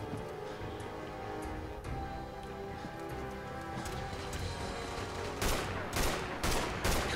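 Rapid gunfire in the game Fallout 4, a fast series of sharp shots that grows louder and denser toward the end, with several heavy blasts standing out above the steady rattle.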